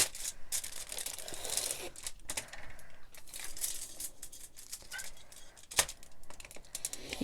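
Scissors cutting a strip of aluminium foil, crisp crinkling and snipping with intermittent rustles and one sharp click, close and fairly quiet over several seconds.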